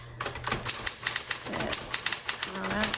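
Rapid keystrokes from a 1960s Smith Corona Electra 120 electric typewriter, a close, steady run of sharp clacks, with someone talking over part of the typing.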